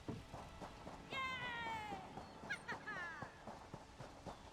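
Cat meowing in The Elder Scrolls Online: two drawn-out, falling meows a second or so apart, moderately faint over a busy game background of footsteps and ambient clatter.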